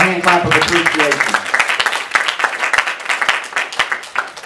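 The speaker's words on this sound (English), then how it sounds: "Let's give ourselves a hand clap of appreciation." A church congregation claps in appreciation, a burst of hand clapping that starts under a speaking voice and continues as scattered, irregular claps after the voice fades.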